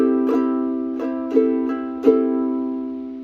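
A ukulele is strummed alone in a down, down, up, down, down pattern: five bright chord strums over about three seconds, each ringing on into the next.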